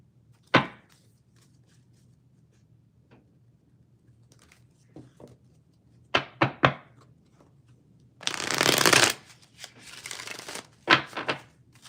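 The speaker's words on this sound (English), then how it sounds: "One more shuffle." Tarot cards are handled and shuffled in sharp, scattered flicks and taps, with one longer riffling burst in the middle, all close and quiet between sounds.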